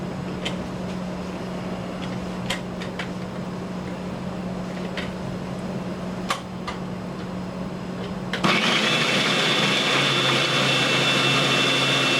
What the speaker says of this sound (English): we're going to go right to the processor with them